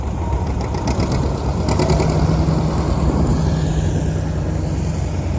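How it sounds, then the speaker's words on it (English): A steady low engine rumble with a droning hum, holding at a fairly constant level as a tractor rolls by nearby at a tractor show parade. "There goes the newest tractor of the show."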